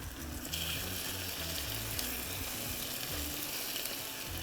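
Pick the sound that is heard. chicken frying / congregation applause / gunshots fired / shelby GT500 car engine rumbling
chicken frying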